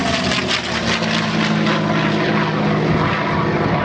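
A warbird propeller aircraft passes overhead at the Ferté-Alais air show, its engine a loud, steady drone with a rising and falling roar across the whole stretch.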